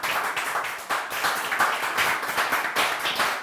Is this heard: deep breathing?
no